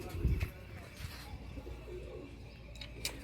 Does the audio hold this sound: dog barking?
no